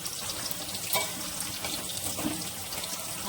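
Water poured into a pan of mutton that has been slowly browned for about an hour, a steady rushing splash with a light sizzle underneath, close and continuous throughout.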